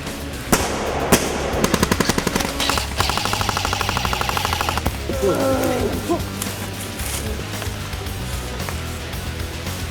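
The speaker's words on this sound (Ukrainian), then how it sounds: "Своєю стріляниною зробили багато шуму, чим привернули небажану увагу" Rapid bursts of gunfire crackle through an airsoft-style shootout game: fast, regular trains of sharp pops, then louder single shots, loud and close over a busy outdoor background.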